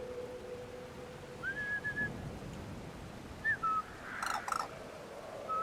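A caged cuckoo bird in the video game Brothers: A Tale of Two Sons gives a few short, faint whistled chirps spaced apart over a quiet background hiss.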